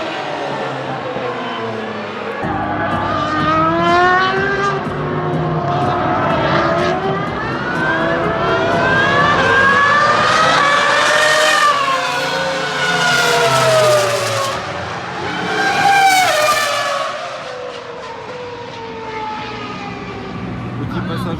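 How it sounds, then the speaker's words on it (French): A Ferrari Formula 1 car at Spa-Francorchamps during a Ferrari racing event, its high-pitched engine screaming and climbing through revs as it roars past. It swells loud, fades, then surges again, with someone talking over the noise. "J'avais jamais entendu de Formule 1 comme ça faire ce bruit là en fait"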